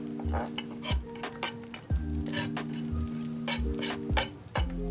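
Meat is scraped from a utensil into a bowl at an outdoor barbecue, giving a string of short scrapes and clinks at an uneven pace, close and fairly loud over a low steady hum.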